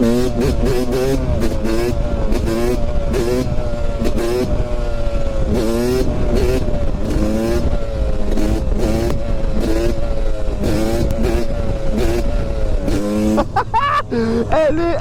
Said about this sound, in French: Elle est incroyable cette moto.